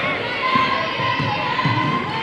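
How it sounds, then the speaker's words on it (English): Home crowd at a close basketball game keeps up a steady, loud roar of cheering and chatter, with occasional thuds of a bouncing ball beneath it and a broadcast commentator talking over the noise. "Home crowd really getting into this one"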